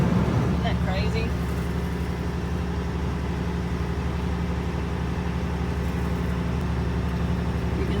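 A truck at an Alaska oilfield runs with a steady, close low engine rumble throughout, with a brief voice near the start.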